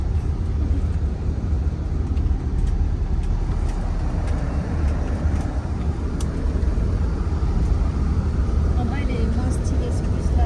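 Steady, dense rumble of a bus travelling on a mountain road in northern Vietnam, from Sapa toward Hanoi, with engine drone and road noise filling the whole stretch without a break.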